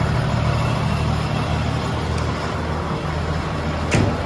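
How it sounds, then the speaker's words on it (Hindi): An old tractor engine idles steadily nearby with a continuous low rumble and a brief click near the end, with no voices. "अभी ये मेरा ट्रैक्टर स्टार्ट हो गया,"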